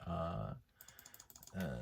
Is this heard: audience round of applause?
no